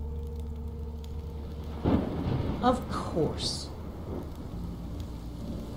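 Steady rain falls with a low rumble of thunder underneath in Minecraft: Story Mode, while a person speaks briefly over it.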